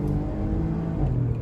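A Porsche Macan Turbo in Sport Plus mode accelerates hard, its engine note a steady droning growl that climbs in pitch partway through, close and loud with no talk.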